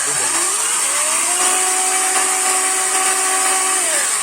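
A Yato YT-82812 cordless chainsaw revs up from idle, holds a steady high electric whine with a rattling chain, then winds back down, loud and close.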